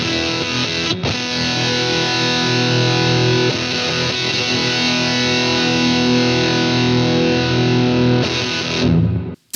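Electric guitar played through a Park Fuzz pedal at full gain into a Princeton amp, neck pickup with the tone rolled off, giving a thick, loud, saturated sustained fuzz tone that rings steadily for several seconds before cutting off abruptly.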